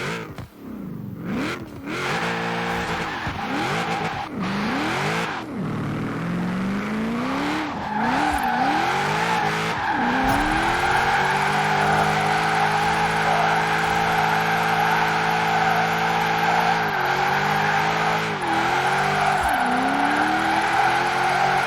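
Chevrolet El Camino SS drift build sliding through drift zones in Forza Horizon 4, with a steady engine drone and continuous tire squeal, revs rising and falling in repeated swells over about twenty seconds, loud and close with no talking.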